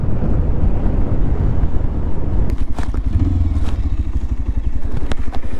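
A Bajaj Pulsar 150 modified into a 220F-style motorcycle is ridden with the engine loud and close, a throbbing exhaust note that surges and pulses as the bike moves, with wind rushing over the microphone.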